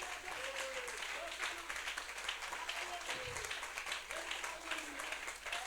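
Congregation applause at a church convention service fills the room as a steady, dense wash of clapping, with faint voices and some sung or spoken tones running underneath.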